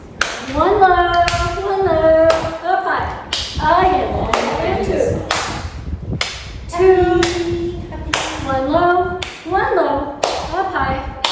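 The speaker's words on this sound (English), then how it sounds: "So 2 claps. 2 claps." Sharp hand claps ring out in a repeating warm-up pattern for a seated or standing exercise class, crisp and close, interleaved with an instructor's spoken counting.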